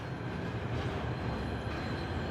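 A steam locomotive boiler in the Warhammer 40K: Rogue Trader video game, a steady broad roaring rumble with rail-like clatter, constant and close, no voices over it.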